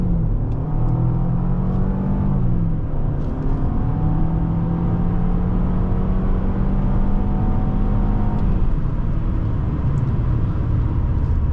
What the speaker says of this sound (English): head on out here and go full throttle